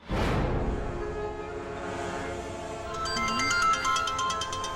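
A mobile phone ringtone plays at steady volume for several seconds, a repeating electronic melody with a sharp onset, set in a Tamil TV serial scene just before a phone call.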